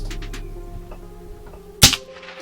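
An AirForce Condor SS air rifle fires a single sharp, short crack near the end, loud and close against a quiet dark outdoor background with faint low hum.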